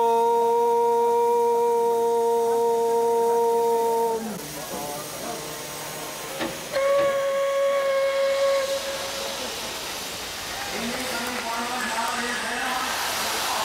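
Steam locomotive on Indian Railways blowing its whistle in long steady blasts, then hissing steam loudly between and after the whistles, close and prominent.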